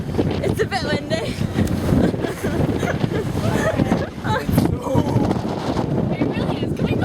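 Strong wind buffets the microphone on an open ferry deck, a steady roaring rush with water and engine noise beneath, while people talk over it throughout.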